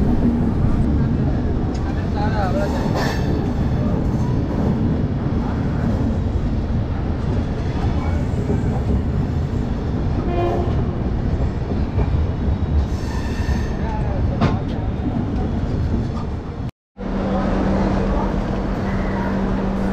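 An express train rolls into Gaya Junction station, a steady loud rumble of wheels and carriages with brief squeals and clatter, a horn-like tone near the end after a short break; speech faintly in the background.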